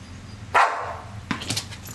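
A dog barks on command: one loud close bark followed by a few quicker, softer yips, with no voices during the barking.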